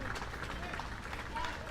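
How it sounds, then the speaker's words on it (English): A baseball crowd and players in both dugouts clap for a young batter after an RBI single, brief scattered applause heard faintly under a commentator's voice. "as the crowd and both dugouts give him a round of applause for the youngster"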